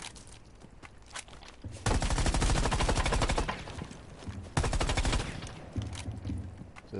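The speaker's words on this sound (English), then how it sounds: "practice shooting through the wall" Rapid automatic gunfire in Rainbow Six Siege rattles through a wall in two long, dense bursts, loud and close, separated by scattered single shots and quieter gaps.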